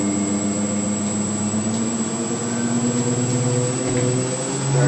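An electric vehicle fitted with a ZF automatic gearbox accelerates and upshifts at higher RPM, giving a loud steady whine with rising tonal motor harmonics and a brief dip as a gear changes.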